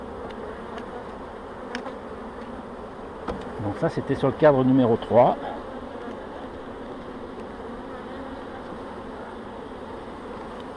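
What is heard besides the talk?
many honey bees buzzing at an opened hive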